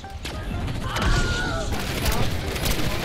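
Gunfire in the video game Black Ops 6 Zombies, rapid bursts of shots and mechanical clatter, loud and busy across the few seconds, with crashing impacts mixed in.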